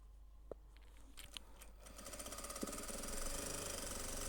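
A sewing machine stitches a folded strip of cloth to attach it along an existing seam, its steady mechanical whir building from faint scattered clicks into a fast, continuous rattle that grows louder and holds at the end.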